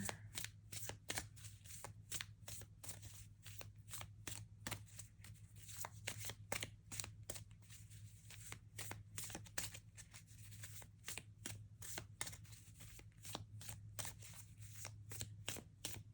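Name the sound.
shuffling tarot cards for a card reading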